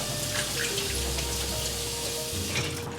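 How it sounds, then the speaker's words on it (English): Canned hominy gets rinsed under a running kitchen tap, a steady close splashing hiss of water on the kernels that lasts throughout. "what you wanna do is take it out of the can and give it a rinse"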